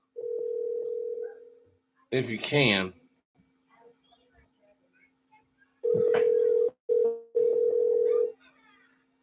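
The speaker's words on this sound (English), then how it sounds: "I'm gonna give you a call on the phone because" A telephone line gives a steady dial tone, then a pause with a person speaking briefly, followed by three more long electronic tones separated by short gaps as a phone call is dialed.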